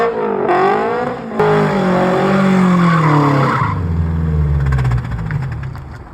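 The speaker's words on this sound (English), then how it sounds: "I did some birthday donuts" A second-generation Toyota GR86 spins donuts with loud, continuous tire squeal sweeping in pitch over engine revving, close and alone for about six seconds.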